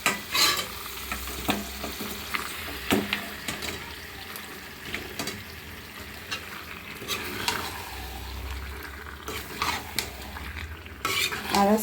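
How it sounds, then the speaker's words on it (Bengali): Meat sizzles and fries with spices in a pan while a utensil scrapes and clatters against the metal. The strokes come in irregular bursts over a steady frying hiss, heard up close without speech. "আমি এখন মাংস দিয়ে একটু কষিয়ে নিব।"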